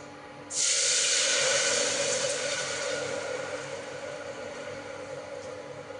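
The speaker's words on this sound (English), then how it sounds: "Now I will add the water." Water poured into a hot cooking pot while making tehri after turmeric and coriander powder, giving a sudden loud sizzling hiss that starts abruptly and slowly fades into a steady steaming bubble.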